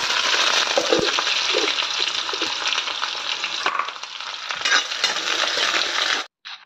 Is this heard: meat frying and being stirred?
yes